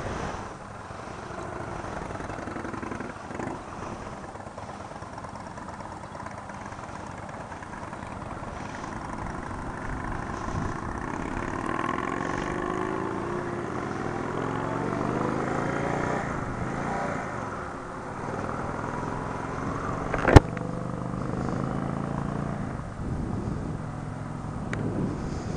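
A 2017 Indian Chief Dark Horse motorcycle rides along with a steady engine drone and wind rush, pitch rising and falling through gear changes, one sharp click near the end.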